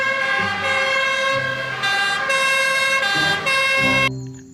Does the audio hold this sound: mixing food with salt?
no